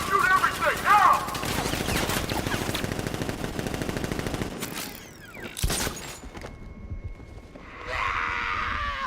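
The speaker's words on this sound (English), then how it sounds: "Guard! Open fire! Shoot everything, now!" Guards in Batman: Arkham Knight fire their guns in rapid automatic bursts, loud and close with a rattling rhythm, then a few sharp single shots and crashing impacts before a quieter stretch.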